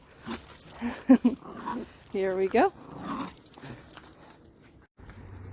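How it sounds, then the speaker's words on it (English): A dog in a spring garden begs to play, letting out short growly vocal bursts and whines close by while a person talks. "And my dog is begging for me to play with her."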